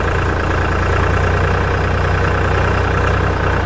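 A tractor engine runs in second gear, a dense, steady low rumble that stays loud and close throughout without letup; no talking.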